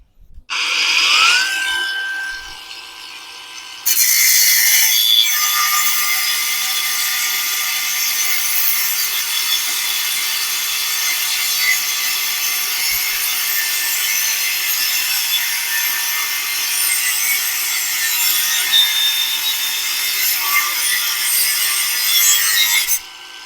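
A steady, high-pitched abrasive grinding from a Masaru SCG605 4-inch cordless angle grinder runs continuously for over twenty seconds after a brief start, fairly loud and close, with no voices.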